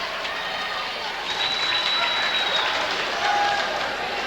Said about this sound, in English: That will bring a cheering section of the Schmidt-Golf variety to their feet.